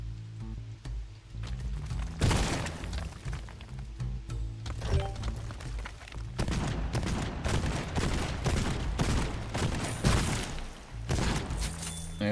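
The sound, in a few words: Slugger gun firing rapidly, from video game Borderlands 2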